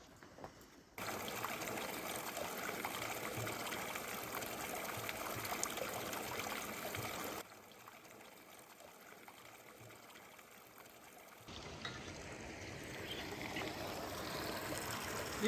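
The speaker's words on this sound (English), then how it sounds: "Need to turn the tap off" Mountain spring water runs from a tap in a steady, soft trickling stream that cuts out and resumes, fairly faint and without speech.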